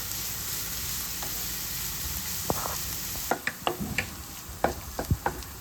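Vegetables and pasta sizzle in a hot pan, a soft steady frying hiss broken by a run of sharp clinks and scrapes from stirring in the second half.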